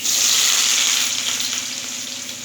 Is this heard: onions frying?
yes